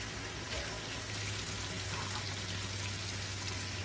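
Running tap water rinsing freshly cut produce in a kitchen sink, a steady close hiss and splash of flowing water with no talk over it.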